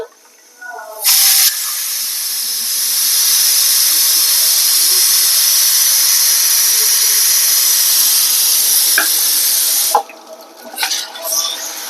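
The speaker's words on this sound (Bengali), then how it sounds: "এই গরম মশলাটা আমি কাঁচা বেটেছি তাই প্রথমে একটু গরম তেলে এটা ভেজে নিচ্ছি" Loud, steady sizzling hiss of raw ground garam masala paste frying in hot oil, rising and holding for several seconds before cutting off, with faint clinks near the end.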